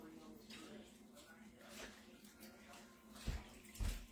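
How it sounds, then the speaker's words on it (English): Leafy greens are rinsed in plain water to wash out grit, with soft sloshing and swishing and a couple of louder splashes near the end, quiet and close. "Now it's just a matter of washing all this grit out of them."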